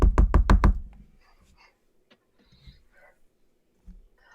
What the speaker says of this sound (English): you hear a knock on your door.